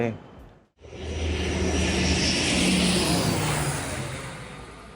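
An airplane landing or taking off at Taipei Songshan Airport, close to the runway: a loud, sustained jet engine roar rises after a brief dip and holds powerfully for several seconds, fading slightly at the end.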